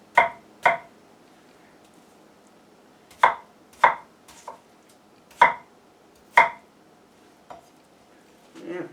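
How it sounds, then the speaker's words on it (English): Knife chopping chilled watermelon on a cutting board: sharp, close thunks that come singly and in pairs with pauses between, over quiet room tone and no speech. "just move your knife back and forth, get it all nice little chunks"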